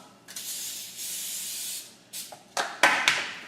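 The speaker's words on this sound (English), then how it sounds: "Spray it with a little bit of grapeseed oil." Grapeseed oil sprayed onto hollowed-out butternut squash halves: a longer hissing burst, then a few shorter quick sprays, close and clear with no talk.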